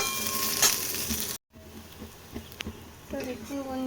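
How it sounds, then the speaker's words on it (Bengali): Food sizzles and crackles gently in a pan over a low flame, a soft continuous frying hiss with brief stirring clinks, and a voice talks partway through. "একদম লো ফ্লেমে এগুলোকে আমি ভেজে নেব।"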